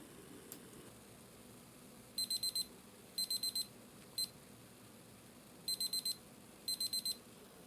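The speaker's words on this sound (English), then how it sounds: "the alarm's going off because the digital readout has reached 219, 220." Digital thermometer alarm beeping while maple syrup boils in a backyard setup: clear high electronic beeps in quick bursts of three to four, repeating several times, over a low steady background hiss.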